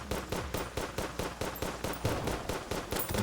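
Rapid automatic gunfire from a Terraria game, shooting at a captain, sounds as a dense, evenly spaced burst of loud shots repeating without pause throughout.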